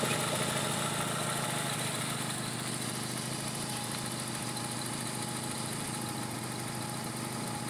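A Honda Civic LXi engine idles steadily nearby, a constant mechanical hum and rattle with no change in pitch and no voices.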